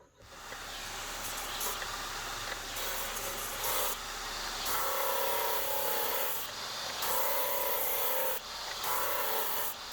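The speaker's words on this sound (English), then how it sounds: "I'm going to send this for the sander once more, and it's gonna grind it all out." Machine sander grinding glue squeeze-out off a leopardwood and padauk panel: a continuous, close abrasive rasping hiss that shifts in tone in several segments as the board passes through at full width.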